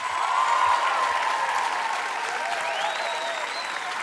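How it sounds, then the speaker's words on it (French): A studio audience on a French television variety show applauds a performing artist, with steady, moderately loud clapping from many hands that fills the whole stretch at an even level. "je pense qu'on peut encore applaudir ce magnifique artiste qui est Nicolas Fraissinet."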